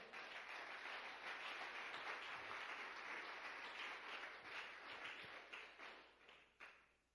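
Congregation applauding inside a church during a sermon, a sustained broadband wash of clapping that holds steady for several seconds and then thins out toward the end, with no talking.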